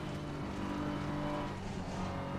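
BMW race car engine in Assetto Corsa Competizione on the Nordschleife, a steady loud in-car drone held at high revs with slight wavering as the car slides, no voices.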